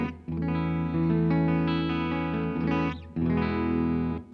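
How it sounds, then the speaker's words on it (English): Clean electric guitar chords through a Strymon Iridium amp modeler in Vox mode, ringing sustained strums with a brief pause before another chord rings out. "So today our modeler is the Strymon Iridium. It is in the Vox mode."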